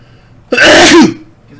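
A single loud, close sneeze, one sharp explosive burst lasting about half a second that stands out against near silence.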